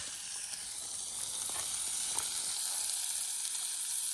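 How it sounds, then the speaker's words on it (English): Steak sizzles and hisses steadily in a pan at a campsite in Shenandoah National Park, a soft, continuous frying crackle with faint occasional pops and no talking. "Cooking some steak before it gets dark."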